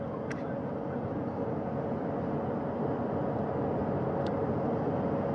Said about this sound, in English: That helicopter will now hover just a distance away to give room for the first helicopter to come back and pick up the third astronaut.